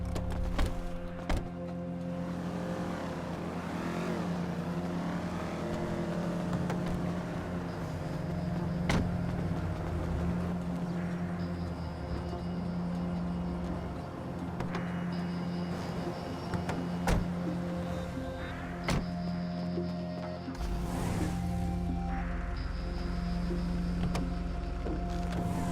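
Truck engine droning steadily in Grand Theft Auto Online, with a low motor hum and some mechanical whine running throughout, interrupted by occasional clicks and thuds; game music or effects sit faintly in the background.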